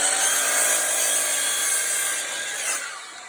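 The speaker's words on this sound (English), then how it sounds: "the first thing you do is you cut a 45-degree angle on your trim." A saw cuts a 45-degree angle through wooden baseboard trim, one steady, loud, bright rasping cut heard up close that fades slightly toward the end, with no voices.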